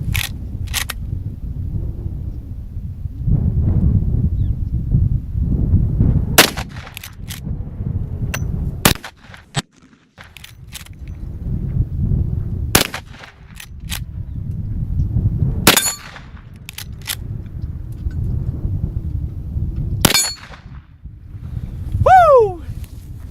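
Outdoor rifle shooting at targets that blow up, with sharp, loud cracks spaced several seconds apart over a low rumbling wind and background noise, some shots doubled, plus a brief rising whistle near the end.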